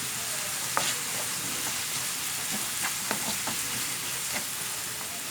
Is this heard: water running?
no